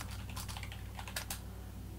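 Keyboard typing in the hacking game Mainlining: a quick patter of soft key clicks with a few brighter presses, steady and close over a low constant background hum, no voices.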